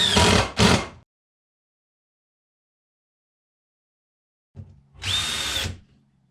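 A power drill bores holes in a wooden board for a homemade boot brush, two short whirring bursts, a long silence, then another longer close, loud drilling burst.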